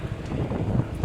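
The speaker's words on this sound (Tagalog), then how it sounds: "masyadong mahangin po ang biyahe natin ngayon" Strong wind buffets the microphone with steady low roaring rumble during an outdoor ride, loud and continuous for a brief moment.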